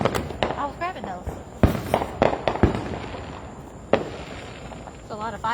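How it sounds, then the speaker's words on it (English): Fourth of July fireworks pop and crackle in sharp bursts, several loud reports scattered among faster crackling, with people chatting throughout. "It's a lot of fireworks."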